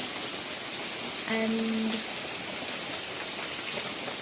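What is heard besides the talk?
sudden rain falling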